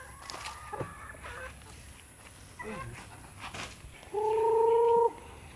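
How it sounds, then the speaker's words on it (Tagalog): Chickens gather begging for food scraps, giving scattered clucks and fowl calls at moderate distance, then a louder sustained honk-like call near the end. "Tabo din ang mga manok kay pangayo ni sila sa ilang bahog."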